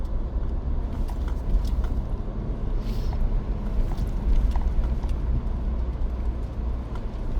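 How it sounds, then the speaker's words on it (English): A truck engine rumbles steadily as the truck drives through deep mud, bogging a little, heard from inside, with faint knocks and rattles over the low drone. "Deep mud, but the truck's not hesitating, it's just bogging a little bit."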